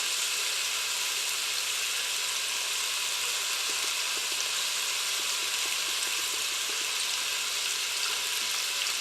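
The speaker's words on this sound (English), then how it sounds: "Hear that good sizzle?" Steady, dense sizzling of beef tenderloin searing in a hot pressure cooker pot, continuous crackle and hiss with no talking.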